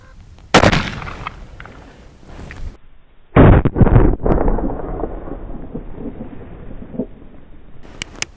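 Outdoor shots from a BFR .460 S&W Magnum revolver fired at a .50 BMG round, with one sharp loud report early, a second heavy blast with rumbling echo midway, and wind noise between.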